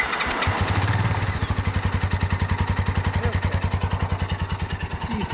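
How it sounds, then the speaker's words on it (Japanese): Kawasaki D-Tracker motorcycle engine starting and then idling, a close, loud single-cylinder thump repeating in a fast, even rhythm with slight wavering after a brief revving start. "ほんなら1台ずつエンジンかけようかな。"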